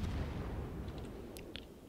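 Heavy 200 mm naval gun turrets firing aboard a warship in World of Warships, a dense rolling low boom that fills the whole moment, with a couple of faint higher cracks near the end and no voices.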